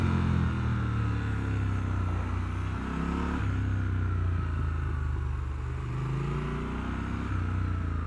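A Triumph Scrambler 1200 XE, a 1200cc motorcycle, is ridden along with a steady engine drone. The engine pitch shifts as gears change, and wind rushes continuously in the background.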